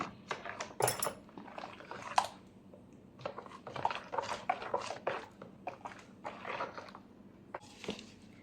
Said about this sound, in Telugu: దీంట్లో ఇదంతా బాగా మిక్స్ అయ్యేటట్లు మనము ఒకసారి మిక్స్ చేసుకుందాము